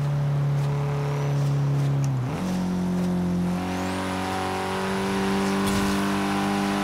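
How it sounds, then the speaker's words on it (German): A four-cylinder car engine in the racing game Forza Horizon 3 drones loud and steady, dips briefly as it shifts, then climbs to a higher sustained rev and holds there, with no talking. "Vierzylinder, die sind kräftig, kernig, dumpf. Die haben auch so leichtes Brrrr drin."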